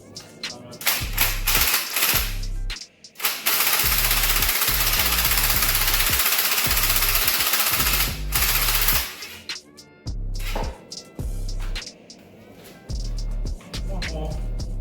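Repeated hammer blows on parts stripped from a Morris motor during a rebuild, loud metallic impacts in quick irregular bursts with short pauses, close to the listener, with a voice occasionally speaking between strikes.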